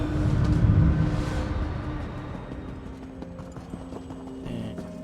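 A horse mount gallops in The Elder Scrolls Online, its hoofbeats clip-clopping in a steady rhythm, louder at first and then easing under a low rumble, with a brief extra thump near the end.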